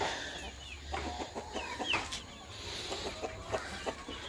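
Chickens cluck and chatter softly at a distance on a farm of native hens, scattered short calls over a low rumble of background noise.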